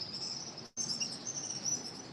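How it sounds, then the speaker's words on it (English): Many small birds call and chirp overhead near a temple garden, a steady high twittering with a brief gap, faint and distant, with no voices. "You are hearing birds, yes,"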